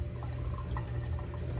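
Tap water runs steadily over a cardboard pizza box at a sink, a continuous broadband rush and patter without pause.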